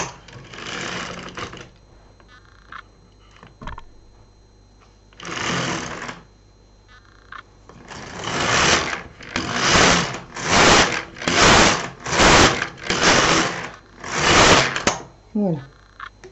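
An LK 150 knitting machine knitting rows of waste yarn: the carriage swishes back and forth in a regular run of about eight close, loud passes, with a few earlier strokes and a voice speaking between them.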